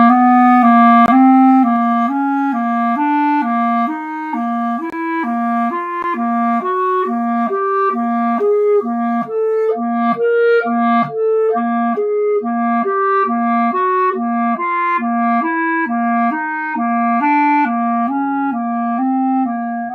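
A Christmas tree technique warm-up pattern played descending like a scale: a clear, steady run of sustained pitched notes with a sharp attack at the start, moving stepwise in a repeating figure, alone and without talking.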